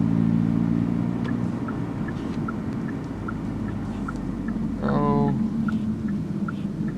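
Car lapping a race track during a track day, its engine a steady close rumble throughout with a brief surge near the end, beeps from an onboard lap timer ticking regularly over it.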